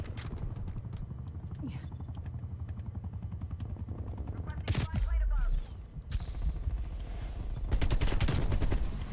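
AK-47 gunfire in Black Ops Cold War, with bursts of shots and explosions amid a busy game soundscape and a helicopter-like drone, while a person talks over the action.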